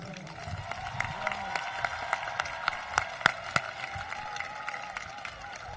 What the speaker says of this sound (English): Let's get an applause for our graduates.